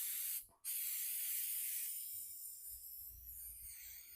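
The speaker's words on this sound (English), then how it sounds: "So I need to get this sealed in, so I'm just going to use some matte finish clear coat." Matte finish clear coat sealer sprayed from an aerosol can onto upcycled home decor: a brief hiss, a split-second break, then one long steady spray that slowly fades, close and alone.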